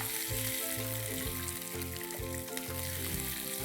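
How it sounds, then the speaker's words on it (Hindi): Vinegar onions frying in a pan with a continuous close sizzle and crackle, stirred briefly, fairly quiet and steady with no voices. "अब इसमें डालेंगे हम 1 कटोरी प्याज। ये जो प्याज हैं ये सिरके वाले प्याज हैं"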